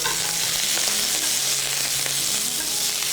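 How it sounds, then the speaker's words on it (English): Zucchini slices fry in a hot pan with a steady, loud, dense sizzle and occasional crackles throughout, no voices. "we're going to fry this off"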